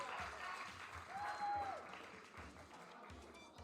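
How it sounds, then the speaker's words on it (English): A crowd at a Splatoon 3 grand finals LAN tournament applauds steadily, the clapping swelling slightly in the middle before thinning out, with faint background noise mixed in. "Give a round of applause for Retroma Paradise"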